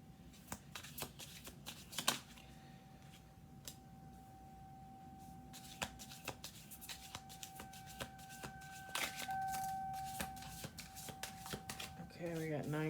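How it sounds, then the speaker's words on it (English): Tarot cards are shuffled nearby in quick bursts of crisp riffling and tapping, spaced over a quiet background with a steady faint hum, and a voice talks near the end. "We're going to do 2 more shuffle throws."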